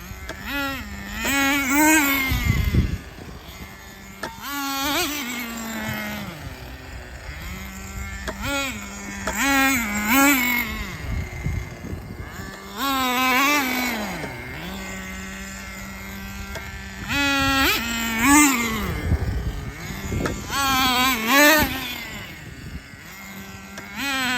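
A nitro Rustler RC car engine runs outdoors on a warm sunny day, its loud, buzzing, high idle swelling and dipping in pitch with repeated short revs throughout.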